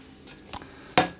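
A large cooking pot is picked up and set down in a home kitchen, with light metallic scraping early on and then one sharp, loud clank near the end.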